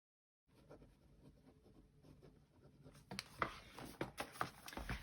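A pen writes in a creative journal close to the microphone, soft scratching strokes that grow louder and more rapid toward the end.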